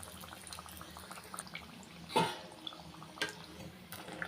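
Rice adai cooking over a low simmering flame, a quiet steady bubbling and hiss with a few soft drips and small clatters, close by and without speech.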